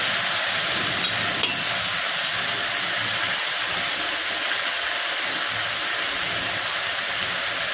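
Dried red chillies frying in hot oil for a tempering, a steady broadband sizzle that holds evenly and fairly loud from start to finish with no talking.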